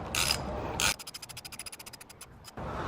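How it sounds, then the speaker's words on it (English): A socket wrench tightens a bolt on a Kawasaki Vulcan 650 motorcycle brake or clutch lever, giving a quick run of about fifteen rapid ratchet clicks between longer scraping turns, close and without talk. "Get your socket wrench, tighten it up."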